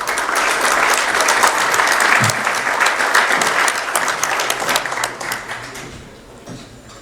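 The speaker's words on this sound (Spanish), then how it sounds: "Lo recibimos con un fuerte aplauso." Strong, dense clapping from an audience at a public forum in Puerto Vallarta welcoming the municipal president, loud at first, then tapering off into scattered claps.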